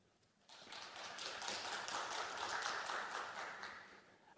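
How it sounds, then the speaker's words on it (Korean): An audience at a digital healthcare forum lecture applauds to welcome a speaker, a dense, steady patter of many hands clapping that starts abruptly and holds for about four seconds at moderate distance. "여러분 박수로 맞이해 주십시오"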